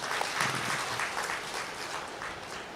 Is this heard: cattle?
no